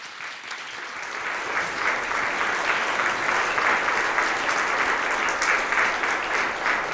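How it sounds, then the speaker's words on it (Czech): Audience at a LAN party event applauds its guests, a full, even roar of many hands clapping that swells slightly and holds steadily for several seconds, with no talk over it. "Poprosím vás o potlesk pro naše hosty."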